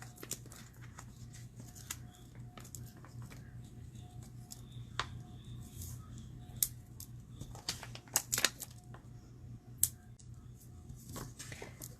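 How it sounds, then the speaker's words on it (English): Scissors snip paper for a handmade stamped card, making a few sharp, faint cuts scattered through quiet room tone, with one short cluster of snips. "then we're going to snip that"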